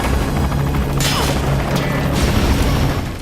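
A hand grenade exploding in Metal Gear Solid V: The Phantom Pain, a loud boom and crash over constant rumbling noise, with a second burst soon after.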